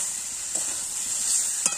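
Slit green chillies drop into meat curry frying in a pan, giving a steady close hiss and sizzle with a couple of faint stirring knocks.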